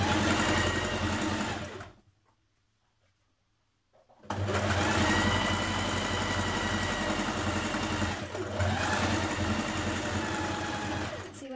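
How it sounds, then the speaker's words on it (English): A domestic sewing machine stitches the side seam of a cardigan, running in a loud steady whir, falling silent for about two seconds, then starting again and running on without a break. "if you do it on a regular machine"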